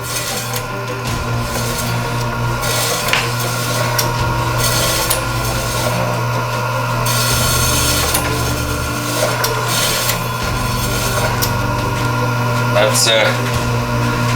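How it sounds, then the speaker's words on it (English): A very sharp knife slices goose pastrami thinly, giving repeated rasping, rubbing strokes against a steady background hum, with occasional louder scrapes. "We'll do pretty thin slices here. Do a couple test runs."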